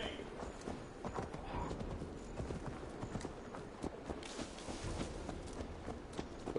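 A horse's hooves clip-clop steadily in the video game Assassin's Creed Valhalla, a dense continuous rhythm of hoofbeats in busy game ambience.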